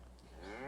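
A herd of cattle on a western ranch spread gives a brief, rising moo that is cut short, fairly faint in the distance.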